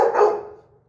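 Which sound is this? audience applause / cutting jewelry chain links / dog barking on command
dog barking on command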